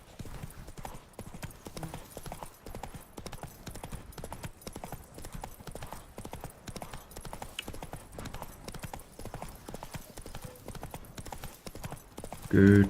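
Roach the horse walks in The Witcher 3, her hooves clip-clopping in a steady, even rhythm close by, with a brief voice breaking in near the end.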